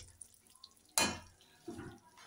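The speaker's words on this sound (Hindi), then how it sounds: "इसमें थोड़ा और पानी ऐड कर देते हैं।" Water poured into a thickening curry gravy for cabbage kofta curry, a single brief splash followed by a softer second pour, close and alone.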